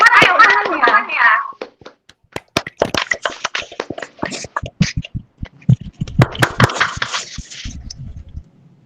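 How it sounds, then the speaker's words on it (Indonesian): A classroom of students in an Indonesian language lesson gives a student a round of applause: loose, scattered claps that build into bursts after a teacher's voice opens the moment. "Tepuk tangan dulu untuk hasil kerjamu yang luar biasa."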